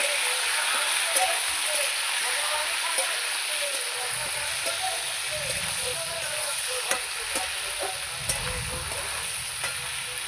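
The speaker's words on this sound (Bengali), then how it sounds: "মাংসটা দিয়ে ভালো করে নাড়াচাড়া করে নেব" Chicken meat fries in a pan while being stirred, making a steady close sizzle with occasional scraping knocks, while a person talks over it at intervals.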